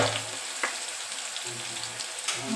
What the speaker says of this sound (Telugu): ఆనియన్స్ కూడా వేసుకోవాలి అవి బాగా ఫ్రై అవ్వాలి